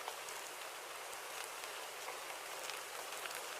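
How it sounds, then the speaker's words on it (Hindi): Steady cartoon rain pouring without a break, a dense hiss of many drops falling evenly, fairly loud and close, with no voices over it. "अब यह बिन मौसम की बारिश शुरू कर दी?"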